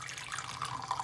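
Vinegar pours in a thin splashing stream into a sauce for slow-roasted ribs, a short, close, steady trickle.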